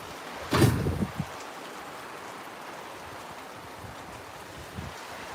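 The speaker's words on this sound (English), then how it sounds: "A monsoon out there." Heavy monsoon rain pours outside as a steady, dense hiss of falling water, with a brief louder knock or rattle near the start and no voices.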